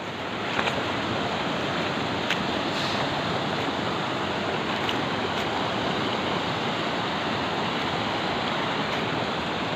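Steady, loud rushing creek water, a continuous broadband roar of flowing current with no pauses.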